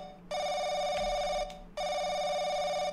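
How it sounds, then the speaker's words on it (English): A horror-game telephone rings in The Crooked Man, two long loud electronic bursts separated by a brief gap, sounding alone with no talk. "We got another phone call."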